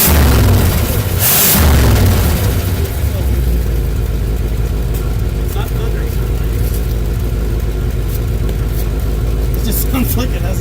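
An old Chevrolet Camaro with an exhaust leak revs loudly up close, a deep rumbling roar with a sharp blip early on that then settles into a rough, uneven idle, while people talk over it.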